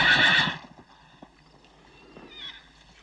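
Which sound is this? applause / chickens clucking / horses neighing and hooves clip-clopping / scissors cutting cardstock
horses neighing and hooves clip-clopping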